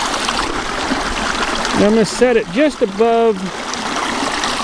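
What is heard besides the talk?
creek water flowing over a crossover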